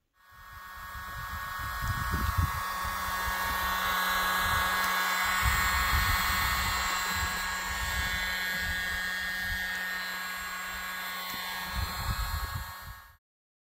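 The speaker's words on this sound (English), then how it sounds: "this turbo cooler flows air through the barrel" A turbo barrel cooler forcing air through a gun barrel at high velocity makes a steady, loud, high-pitched whine and rush that starts abruptly, holds for about twelve seconds with some low rumbles, then stops.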